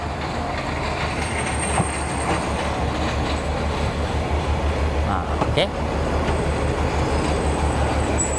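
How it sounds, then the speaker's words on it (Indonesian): A rural train in Japan rumbles into a station with a steady low drone and clattering wheels, a brief metallic squeal rising midway, while a person speaks briefly over it. "Keretanya udah hampir datang."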